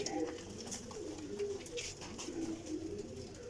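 Pigeons coo in a breeder's loft, low rolling throaty calls repeating in soft waves, with a faint hint of voices and a little background noise.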